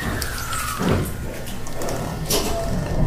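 Doors of a Shizuoka Railway Shizuoka-Shimizu Line local train slide shut, with a couple of soft thuds over steady carriage rumble and hiss.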